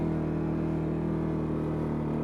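A CFMoto CForce touring ATV engine held at steady revs in low range, a loud, even mechanical drone with no change in pitch or voices.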